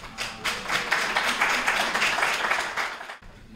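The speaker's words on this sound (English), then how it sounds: "Mr. James Moore, another applause, please." An audience at a poetry reading applauds steadily for a few seconds, a dense wash of clapping that cuts off abruptly near the end.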